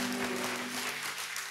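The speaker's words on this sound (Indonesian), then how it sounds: "Kasih tepuk tangan yang paling meriah" A church congregation applauding together, steady broadband clapping sustained across the moment without a break, with a faint tonal hum running underneath and no voices rising above it.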